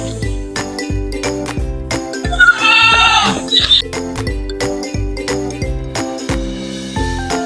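A goat bleats loudly for about a second over steady rhythmic music with a regular beat, with a faint tinkling jingle in the mix, at a goat pen.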